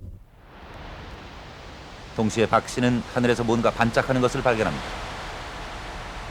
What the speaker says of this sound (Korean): 뭔가 지지직하는 것 같은데?